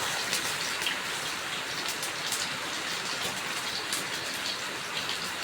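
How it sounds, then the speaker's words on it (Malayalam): Light drizzle falls outside a home, a faint, even hiss of fine raindrops pattering on surfaces, steady and unbroken with no voices. "മഴ ചാറ്റൽ തുടങ്ങി."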